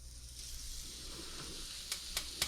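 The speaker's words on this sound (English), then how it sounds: "We're gonna get a good sear on the bottom, and then we're gonna flip it." A burger patty sears in a hot pan, a steady quiet sizzle running throughout with a few sharper crackles and pops near the end.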